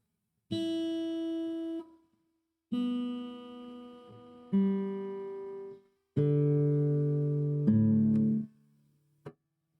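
A metal-bodied guitar plays a handful of strummed chords with pauses between, bright and metallic, ringing out and fading before the next.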